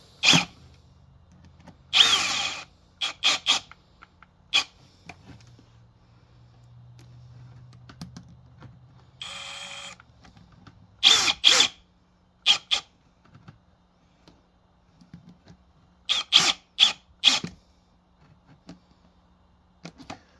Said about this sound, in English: Make your life easier, use your hand drill